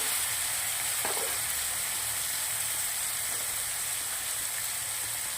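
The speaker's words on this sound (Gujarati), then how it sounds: "ટામેટા નાખી દીધા છે આપણે, ઝીણા સમારેલા 2." Continuous loud sizzling and hissing of finely chopped tomatoes frying in a hot pan over a low gas flame, with a faint scrape or two of stirring.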